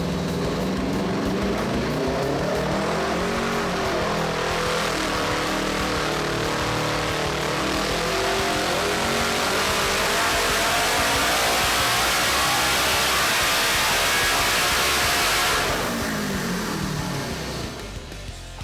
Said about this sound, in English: we just made some really good horsepower and it sounded awesome with that exhaust